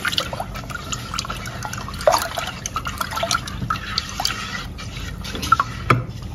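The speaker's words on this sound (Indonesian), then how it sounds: "Dan setelah tercampur seperti ini, tambahkan 800 ml air. Aduk-aduk kembali." Water poured into a powdered drink mixture and stirred, giving a steady trickling and dripping wash with small splashes and clinks throughout, fairly loud and close, with no speech.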